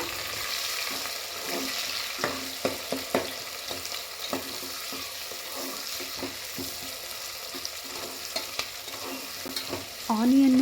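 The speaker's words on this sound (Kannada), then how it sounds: "ಹೆಚ್ಚಿಟ್ಕೊಂಡಂಥ ಹಸಿರು ಮೆಣಸಿಕಾಯಿನ ಆ್ಯಡ್ ಮಾಡ್ಕೊಳ್ತಾ ಇದ್ದೀನಿ ಅದಾದಮೇಲೆ ಆನಿಯನ್ ಆನಿಯನ್ ಸ್ವಲ್ಪ ಕಲ್ಲರ್ ಚೇಂಜ್ ಆಗೋವರೆಗೂ ಫ್ರೈ ಮಾಡ್ಕೊಳ್ಳೋಣ" Chopped green chillies and onions frying in a pan for hotel-style tomato bath: a soft continuous sizzle with scattered stirring scrapes and taps, then a sharper hiss at the very end.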